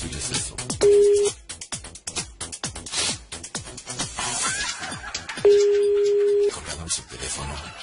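A telephone busy tone sounds after a caller hangs up: a short steady beep, then a longer unbroken tone, with voices talking over the line in between.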